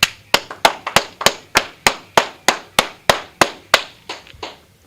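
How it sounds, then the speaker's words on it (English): A group at an indoor class in Houston claps in unison, about fourteen sharp, evenly spaced claps in a steady beat, close and crisp with brief reverberant tails. "All right, clap it up."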